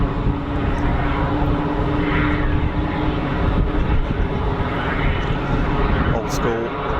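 An easyJet Airbus airliner taxies at Geneva Airport, a loud steady engine roar and rumble that holds evenly throughout, with faint voices underneath.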